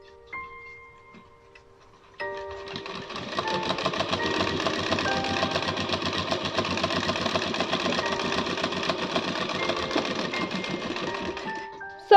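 A sewing machine stitching with the stitch length dial set to 5, starting after a short pause and then running in a fast, even mechanical rattle for about ten seconds before stopping, close and loud.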